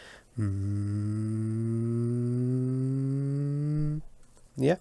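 A deep, low three-cylinder engine note drones steadily and loud for about three and a half seconds, rising slightly in pitch, then stops, followed by a brief burst of another sound.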